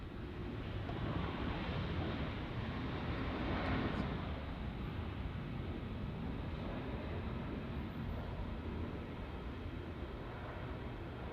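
A Fiji Airways A330 airliner at Melbourne Airport in rain makes a broad, steady roar that swells slightly mid-way and holds at a constant level, mixed with wind and rain wash.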